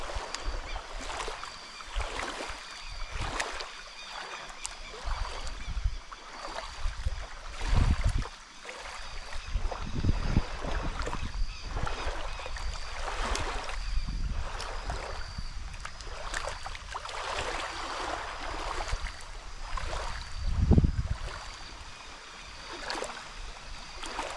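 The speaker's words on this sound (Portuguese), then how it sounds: "Que ventania." Strong wind blows by a lake at Serra da Mesa, buffeting in loud, rushing gusts with lapping water underneath, continuous throughout with swells and dips.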